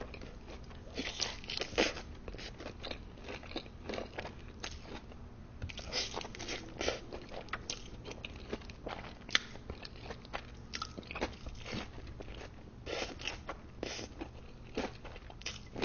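Crunchy Wingstop food, close-up bites and chewing, repeated crisp crunches in an uneven rhythm at low overall volume with no talking.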